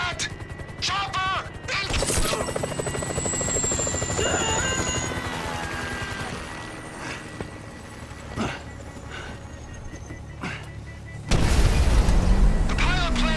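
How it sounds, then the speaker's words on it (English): Helicopter approaching in the video game GTA 5, a steady rotor drone running under game effects, with loud crashes and impacts and a sudden louder burst near the end. "Can you hear that? Chopper!"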